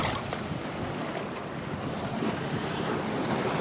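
Sea water washing in along a rocky shore in Korea as the tide rises, a constant loud rush of surf with wind buffeting the microphone.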